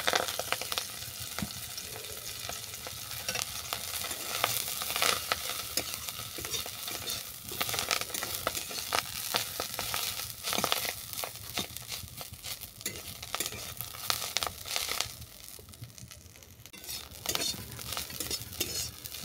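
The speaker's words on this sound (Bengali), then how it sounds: "নামিয়ে নিয়ে তেল কড়াতে আমি পিরিং ফুলটাকে ভেজে নেব" Piring flowers fry in mustard oil in a wok: a steady, close sizzle throughout, broken by frequent scraping and clinking of a stirring utensil against the metal pan.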